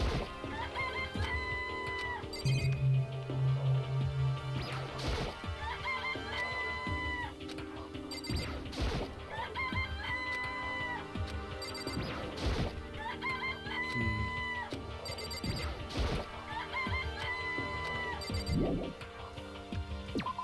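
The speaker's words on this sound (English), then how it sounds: "This place even has chickens." Chickens cluck and a rooster crows in the Danganronpa video game, repeating in a steady pattern over background music, with sharp crashing hits scattered throughout.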